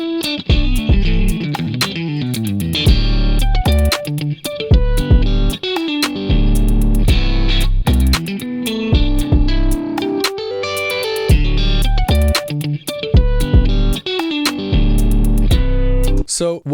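A music track with a distorted guitar part, produced in Ableton, plays continuously and loudly with dense chords and sharp rhythmic hits throughout.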